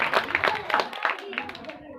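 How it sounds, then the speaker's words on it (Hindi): An audience claps at a 15 August school program, a brisk burst of many hands applauding that thins out and fades to silence within about two seconds. "एक बार जोरदार ताली"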